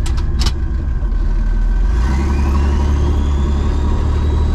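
A turbocharged all-wheel-drive Chevrolet S10 pickup, a DIY Syclone-style build, holds a steady loud engine drone that climbs into a rising rev as it accelerates, heard up close with no talking.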